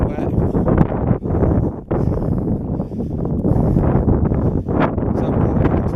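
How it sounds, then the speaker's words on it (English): Wind buffets a handheld microphone while someone walks into a snowstorm, producing a continuous loud low roar with gusty swells and a few brief dips. "So I'm walking into the wind."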